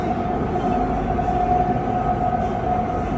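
Steady rumble of an electric passenger train travelling on its line, a constant close-up roar with a faint tonal whine and no talking.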